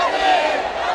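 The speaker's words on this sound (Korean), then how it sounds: "함성으로 응답해 주십시오." A crowd at a candlelight memorial rally for Sewol ferry victims roars back in a sustained collective shout, loud and dense, with voices blending into one broad cheer throughout the second.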